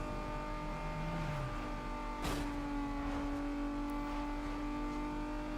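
A street racing car's engine drones steadily at high revs in Need for Speed Underground 2, with a brief pitch slide and a sharp impact-like click partway through, no talking.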